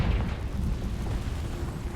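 A Confringo blast spell from Hogwarts Legacy erupts as a deep rumbling boom that rolls on for two seconds, loud and low with no talk over it.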